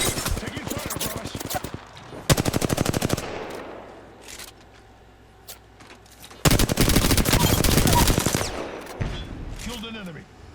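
Automatic gunfire from an Apex Legends firefight, two long loud bursts of rapid shots separated by quieter stretches with scattered game effects, close and dominant, with no talk over it.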